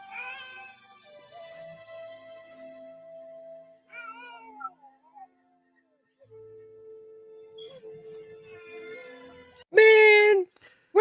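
Meowing from a cat in a video game scene, a few plaintive calls separated by gaps, with a sudden louder, harsher yowl near the end.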